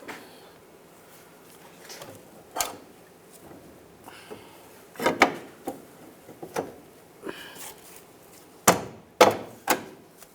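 Front lower control arm on a 2004-2009 Toyota Prius being tapped into place, giving scattered sharp metallic knocks, some in quick pairs, with quiet pauses and faint handling noise between hits.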